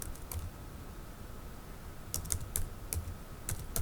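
Fast typing on a computer keyboard while working in a Microsoft Excel spreadsheet, with light clicking keystrokes in short bursts and small pauses, close by and fairly quiet over a steady background hiss.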